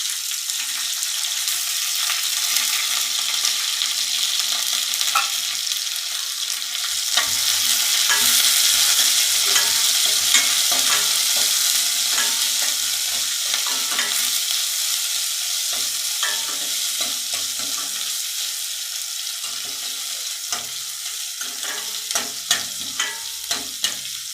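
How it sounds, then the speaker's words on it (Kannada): Onion, curry leaves and dried chillies fry in a pan for a tomato rasam, a continuous loud broadband sizzle that swells midway, with scattered stirring clicks and scrapes toward the end. "ಈ ಈರುಳ್ಳಿ, ಕರ್ಬೇವಿನ ಸೊಪ್ಪು, ಒಣಮೆಣ್ಸಿನ್ಕಾಯಿ ಕಟ್ ಮಾಡ್ಕೊಂಡಿರೋದು ಹಾಕಿ ಸೇರಿಸ್ಕೊತಾ ಇದ್ದೀನಿ"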